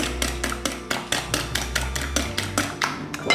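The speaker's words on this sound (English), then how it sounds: "now we need to whisk our eggs" A whisk beating two eggs in a bowl for spelt flour crepes, a quick regular series of sharp clicking taps against the bowl, close and fairly loud, with no voices.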